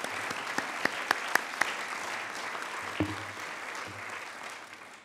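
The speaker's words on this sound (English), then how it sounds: "Let's give another round of applause to Bill and Nina." A congregation gives a round of applause for two members during a Unitarian Universalist service, a soft, steady patter of many hands with a few sharper close claps near the start, fading slightly toward the end.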